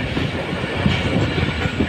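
The Shah Latif Express, a passenger train out of Karachi, rumbles along at speed with a steady loud roar and faint clickety-clack of wheels, no voices.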